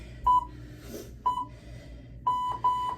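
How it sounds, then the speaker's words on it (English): A workout interval timer set to 30 seconds on and 10 seconds off counts down with four short, clear electronic beeps, two spaced apart and then a closer pair, over a low steady room hum. "Starting the timer, 30 seconds on, 10 seconds off. It's gonna count us down."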